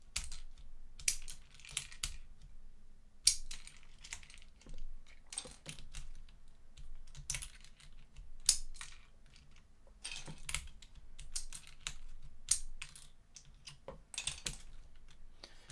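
A keycap puller prises keycaps off a mechanical keyboard, with quiet, close plastic clicks and snaps arriving in irregular bursts against near silence.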